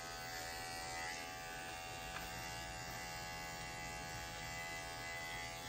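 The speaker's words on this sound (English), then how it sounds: "am trimming under her tail using a Schoenbeo digital clipper with a 7-blade" A Schoenbeo digital pet clipper fitted with a 7 blade trims the fur under a Yorkie's tail, giving a steady, close electric buzz with a constant hum throughout and no talking.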